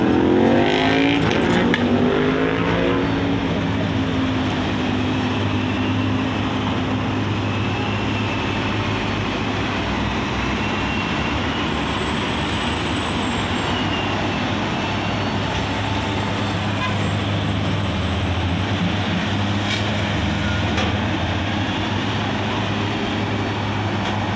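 Road traffic on the SLEX expressway in the Philippines makes a continuous loud roar for the whole stretch as vehicles pass close by, with a heavier rumble at the start.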